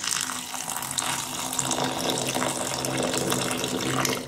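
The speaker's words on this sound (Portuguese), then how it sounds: "E aí você vai adicionar água quente no seu quiabo." Hot water pours steadily onto sliced okra in a container, a continuous close splashing rush with no pauses.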